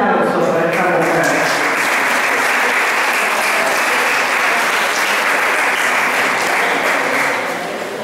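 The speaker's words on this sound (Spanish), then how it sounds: "un fuerte aplauso para esta mujer" Loud, sustained applause from an audience honoring a woman poet at a literary gathering, a dense steady wash of clapping that holds for the whole stretch and eases slightly at the end.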